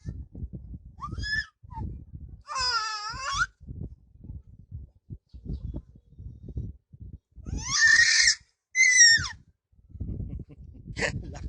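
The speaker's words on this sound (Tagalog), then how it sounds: "Lakas sumigaw." A child screams loudly in several shrill, wavering bursts with gaps between them, over intermittent low thumps and knocks nearby.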